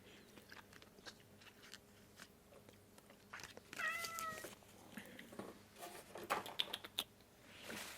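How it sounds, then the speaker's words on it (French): A cat meows a few times in a quiet room, the calls faint and scattered among soft rustling and small tapping noises. "Le chat qui miaule."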